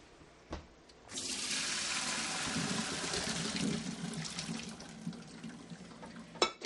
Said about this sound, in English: Now the potatoes are tender, so we're going to take them over to the sink and drain them.